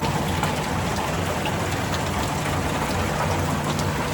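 Heavy rain pours steadily outdoors, a dense continuous hiss with a low rumble beneath, loud and unbroken throughout.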